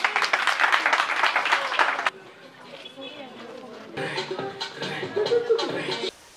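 Applause from a school audience honouring a student at an academic excellence ceremony, a dense burst of clapping that stops abruptly, then a quieter second round of scattered claps with some shuffling.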